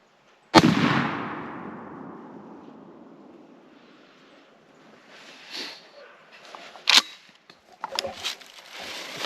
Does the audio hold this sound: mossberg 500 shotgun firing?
yes